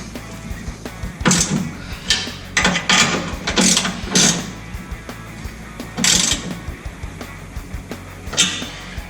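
A ratchet tightening transmission mount bolts during an LS engine swap into a Dodge Dakota: bursts of rapid metallic clicking in short strokes with pauses between them, close and moderately quiet, no talk.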